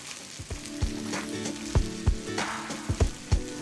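Ginger garlic paste and slit green chillies sizzling in hot oil in a pan for palak paneer, a crackling fry punctuated by several sharp utensil knocks and stirs, close up and alone.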